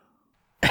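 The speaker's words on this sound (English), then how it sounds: "I have a cough which nearly kills me" After near silence, a single loud, harsh cough bursts out abruptly at the very end.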